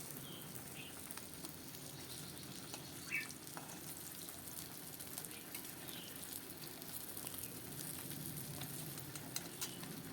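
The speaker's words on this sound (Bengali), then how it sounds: "মাছ ভাজা হয়ে গেছে, আমি ঝোলের মধ্যেই তুলে দিলাম" Fish frying in oil in a pan for a fish curry, giving a steady low, even sizzle with faint crackles and a few soft clicks throughout, no voices.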